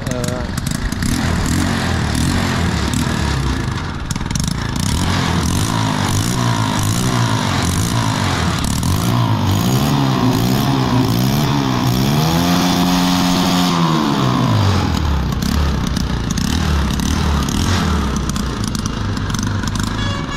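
A bike trolley for hauling farm goods runs its engine steadily while reversing, the loud, close motor note rising and falling in pitch, with a person talking over it.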